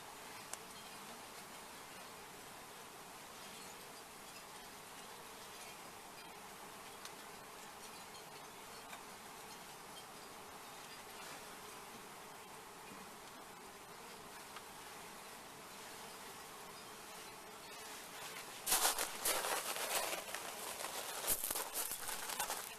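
Honey bees from a first package, newly installed in a hive, buzz as a steady faint hum throughout, then swell into a louder, closer burst of buzzing near the end.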